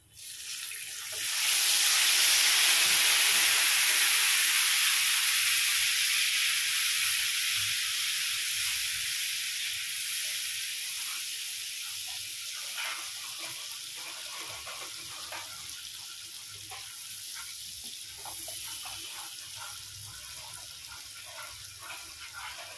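Spice masala of chilli and cumin powder hisses loudly in a pan once a little water goes in. The burst surges at first, then settles into a long, gradually fading sizzle with no talk.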